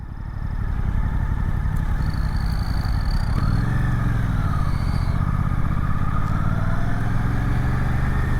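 Suzuki GSX-8S motorcycle engine under way, a steady loud throbbing drone heard from on the bike, rising and falling slightly in pitch as revs change, with wind rush above.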